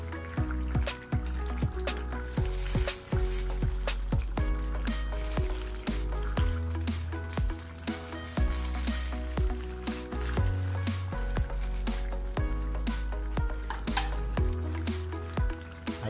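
A pot of simmering ginataang labong, bamboo shoots in coconut milk with labahita fish, saluyot and dried fish, is stirred, giving close, steady scraping and clinking of a utensil against the pot over soft bubbling liquid, with no talking.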